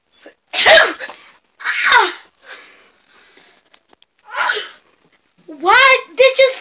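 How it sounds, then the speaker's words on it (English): Several close, sharp sneezes burst out between quiet pauses during a sneezing prank, loud and sudden, with a voice speaking briefly near the end. "Why did you sneeze on me?"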